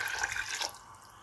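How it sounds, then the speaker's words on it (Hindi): Water poured from a cup into a cooking pot while making Kashmiri daal with chicken, a short close splashing trickle that tapers off after about half a second. "यहाँ पे पानी जो है वो मैं 3 कप इसके अंदर डाल रही हूँ।"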